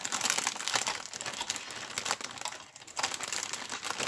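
Resealable plastic bag from an ICM T-34/76 1943 early production model tank kit crinkles and rustles steadily up close, with sharper bursts of crackling handling noise and no talking.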